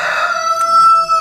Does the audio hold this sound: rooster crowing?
yes